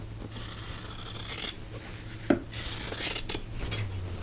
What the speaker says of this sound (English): going to trim this out a corner, leaving a 1/4 inch seam allowance